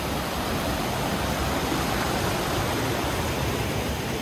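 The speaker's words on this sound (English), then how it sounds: "This is a Jogini falls" Jogini waterfall near Manali roars steadily and close by, a dense broadband rush of falling water that holds at an even level throughout with no voices on top.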